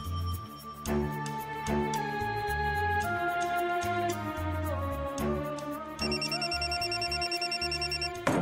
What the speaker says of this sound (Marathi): आता कोण फोन करतंय?